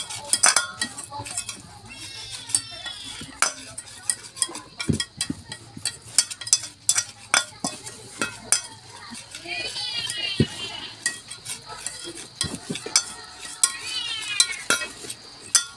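Cornstarch and flour batter for kangkong chips mixed in a bowl, with brisk repeated utensil clinks and scrapes throughout, a high chirping voice-like sound in the background.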